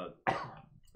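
A single short, raspy cough, close and fairly loud, fading quickly into quiet.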